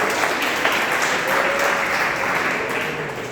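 An audience applauds at an opening ceremony, with dense, even clapping that carries on for about three seconds.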